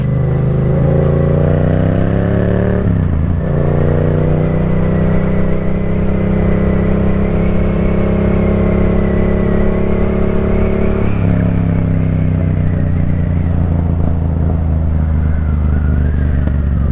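A Yamaha FZ-07 motorcycle rides slowly across steel road plates, its engine droning steadily and close with a brief dip in revs partway through and a shift in pitch near the end, with no talk.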